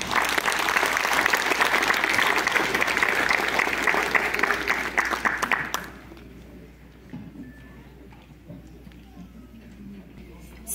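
Applause for a community leader at an Indigenous Natabuela tribute ceremony fills the first six seconds with a loud, dense clatter of clapping, then it cuts off and only faint room noise remains.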